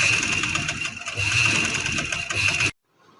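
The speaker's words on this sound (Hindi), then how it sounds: "अब ये मैं ऊपर सिलाई लगाने लगी हूँ इसके।" A sewing machine runs steadily, stitching a line along the very edge of a salwar with a dense, continuous whirring hum for most of the clip. It stops abruptly near the end, leaving near-silence.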